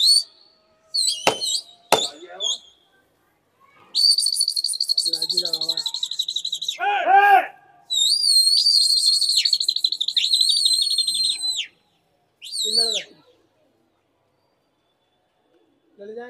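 Sharp, shrill whistles and warbling calls from a pigeon fancier calling his flock back during Delhi kabootar bazi. The bursts are loud and close, some short and some held for several seconds, with quiet gaps between them.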